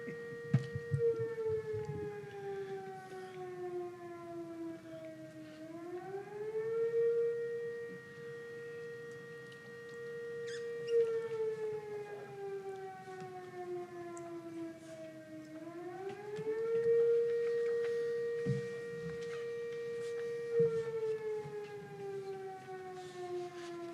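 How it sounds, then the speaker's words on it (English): A civil defense siren wails in long rising and falling cycles, a steady distant tone swelling and fading roughly every ten seconds, heard alone in a quiet room. "Can you just wait till the siren goes?"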